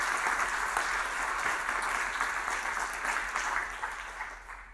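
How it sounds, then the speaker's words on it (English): An audience at a data science event gives a sustained round of applause, with many hands clapping together evenly and fairly far off, then fading near the end. "So a big round of applause for everybody"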